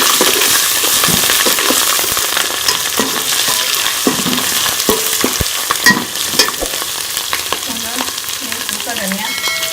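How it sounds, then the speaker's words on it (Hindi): Whole garam masala and ginger garlic paste frying with onions in hot oil for chana pulao, a steady loud sizzle with stirring scrapes and small pops throughout, no voices. "इसी के अंदर ये मैं लहसुन अदरक का पेस्ट भी डाल दूंगी"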